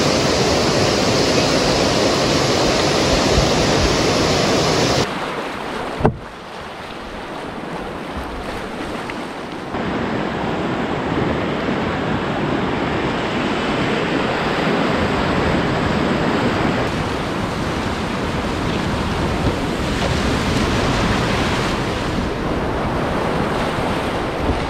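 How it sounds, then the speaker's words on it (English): River rapids rushing on a northern wilderness canoe trip, a steady, loud broadband roar of whitewater that continues throughout, with wind buffeting the microphone and a brief sharp knock partway through. "Just looking at this other rapid here"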